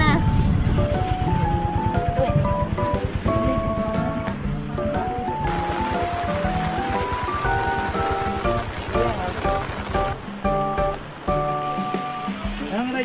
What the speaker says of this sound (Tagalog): Papatila muna kami ng ulan dito.